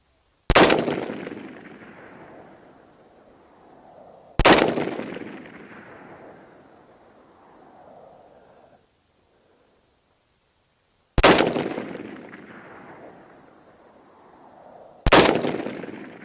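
A rifle fires M855 rounds outdoors: four sharp, loud shots spaced several seconds apart, each followed by a long echoing decay that fades into near silence.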